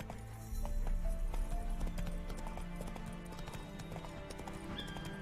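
Hooves of Roach, a horse in The Witcher 3 video game, clip-clopping at a trot in a quick steady rhythm over game music and ambience, with a brief whinny.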